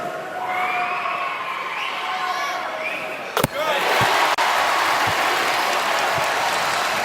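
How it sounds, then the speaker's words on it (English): Basketball arena crowd at a VCU versus Dayton college game breaks into sustained loud applause and cheering after a free throw, with sharp slams and thuds cutting through the steady roar. "The crowd gave him a great applause on that one."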